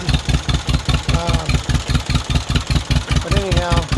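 A John Deere M crawler tractor engine idling, a loud, close, steady chugging beat of evenly spaced firing pulses, with a voice briefly talking over it twice.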